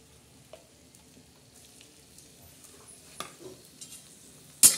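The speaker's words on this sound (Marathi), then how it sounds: "तर आता आपण सर्वप्रथम तेल टाकलेलं आहे. त्याच्यामध्ये अद्रक आणि लसूण आणि जिरे" Ginger, garlic and cumin fry in oil in a pan, a soft low sizzle with scattered spoon stirs and scrapes, ending in a sharp metallic clank, near and otherwise quiet, no talking.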